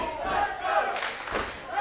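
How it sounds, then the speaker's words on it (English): Wrestling fans cheer and yell in an arena during a World League Wrestling match. There is a steady crowd roar with rising swells of shouting, heard briefly and fairly loud. "you hear them fans"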